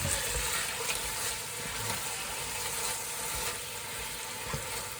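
Noodles for a Thai dish are stirred in a hot pan, giving a steady broadband sizzle with soft scraping and clinks throughout, moderately quiet and continuous with no talking.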